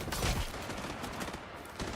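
Rapid gunfire in a shooter video game, a dense continuous burst of shots filling the whole stretch at steady loudness with no clear talk over it.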